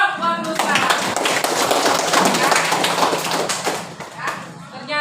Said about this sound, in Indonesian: Tepuk tangan dong buat Ruslan.